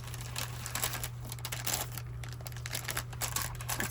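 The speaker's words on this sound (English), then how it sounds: "Sorry for the crinkling." Packaging from a mailed craft swap parcel crinkles faintly and steadily as it is opened, with a low electrical hum beneath.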